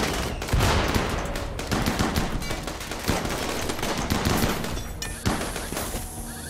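Heavy gunfire in RimWorld from colonists and defensive turrets: dense, loud, rapid overlapping shots and bursts rattling continuously, with a few heavier cracks standing out.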